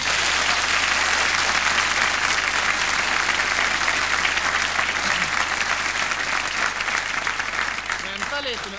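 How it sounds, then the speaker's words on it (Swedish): Sustained, loud audience applause fills the entire stretch, a dense wash of clapping from a large studio crowd on a 1990 Swedish television show, easing slightly toward the end. "Och jag vill ha en stor applåd."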